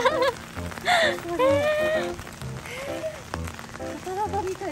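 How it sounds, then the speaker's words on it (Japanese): Heavy rain pours down outdoors at a traditional-style village experience site in Toyota City, Japan, a steady dense patter running throughout while people talk over it. "すごい雨 ね"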